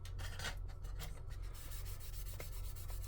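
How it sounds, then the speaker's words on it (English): A primered Aoshima Knight Rider model car is wet sanded with a 3M 5000 grit sanding sponge, giving soft, quiet rhythmic rubbing strokes against a low background hum, no voices. "we're gonna wet sand this with my 3M 5000 grit sandpaper, the sponge"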